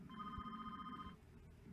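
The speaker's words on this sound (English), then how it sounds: "My cell phone's ringing." A cell phone rings close by with one steady electronic tone for about a second and then stops, over a quiet background.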